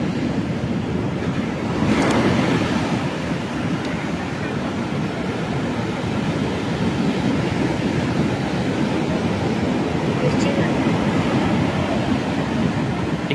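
Sea waves at Puri, where small wooden fishing dinghies are rowed out through the surf, make a continuous broad roar of breaking water and wind that swells and eases, close and steady.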